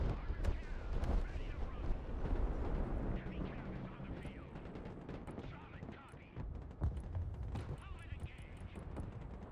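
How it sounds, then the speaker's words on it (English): In the Broken Arrow strategy game, cruise missile strikes pound the ground with dense, rumbling explosions and crackling blasts one after another. The barrage is loud and continuous, and a voice talks over it. "Oh, a lot of cruise missiles."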